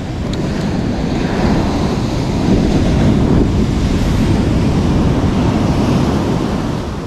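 Winter sea surf off a Sendai beach washes in as a continuous, loud, broadband rush of breaking waves, steady throughout with wind buffeting the microphone and no voices.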